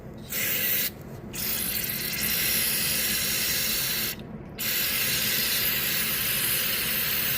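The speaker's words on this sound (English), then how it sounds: "Spray it down in that hole." Carburetor cleaner sprays in steady, loud hissing bursts into a hole in a Honda GCV carburetor, with two short pauses between the long sprays.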